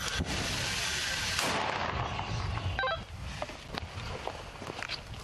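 Loud, sharp mortar launches and booms echo outdoors at a frontline position near Klishchiivka, Ukraine, with a clatter of metallic clicks mid-way and scattered distant thuds afterward.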